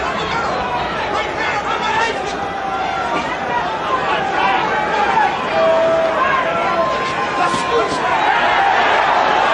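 A boxing arena crowd at a heavyweight fight between Ray Mercer and Tommy Morrison roars and chatters in a steady, dense wall of noise throughout, with a few louder swells of cheering.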